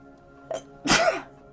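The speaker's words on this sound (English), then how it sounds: "I usually sneeze 3 times in a row." A single allergy sneeze bursts out loud and close after a short sharp inhale, a brief explosive blast that fades within half a second.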